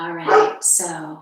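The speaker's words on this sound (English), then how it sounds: "You can hear my dog in the background." A dog barks twice in quick succession, fairly close and loud, with a person speaking over part of it.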